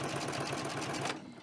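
A double-needle sewing machine runs a plain straight stitch in a steady, fast mechanical whir for about a second, close and loud, then cuts off abruptly into quiet.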